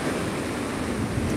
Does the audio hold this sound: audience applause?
no